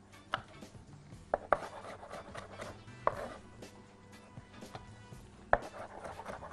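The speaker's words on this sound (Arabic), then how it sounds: "ناخد اللحم بتاعها بس ونبدأ اللي احنا نفرمها فرم ناعمة" A knife finely chops tomatoes on a cutting board in a kitchen: a handful of sharp, separate knocks spaced irregularly over several seconds, close but fairly quiet, with faint rubbing and handling sounds between them.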